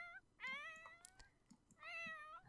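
A cat in The Sims 4 video game gives two separate, drawn-out meows with a pause between them, faint and heard alone.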